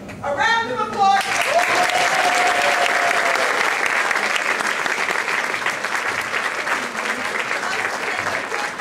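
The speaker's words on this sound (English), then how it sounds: "A round of applause!" An audience at a school student of the month award ceremony breaks into loud, sustained applause that fills the whole stretch, with a brief burst of crowd noise at the start.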